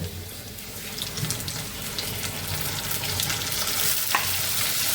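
Fish pieces go one at a time into a pan of browning onions in hot oil, and a loud, steady, close sizzle swells and holds throughout.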